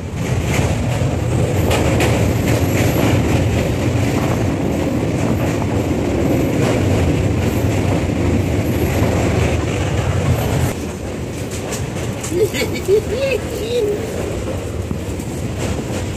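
A train runs across the Jubilee Bridge over the Ganges with a loud, steady rumble and rhythmic clatter of wheels on rails, heard from inside a carriage and easing slightly near the end.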